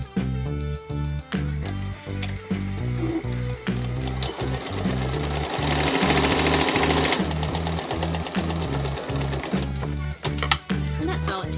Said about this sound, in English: We're going to overlap the elastic and sew it together